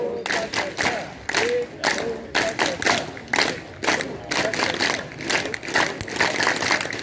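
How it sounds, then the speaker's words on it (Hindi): A seated group at an International Yoga Day session claps in a steady counted rhythm, loud and close, with brief pauses between bursts of claps and voices calling out over them. "चलिए सब कोई ताली हो जाए"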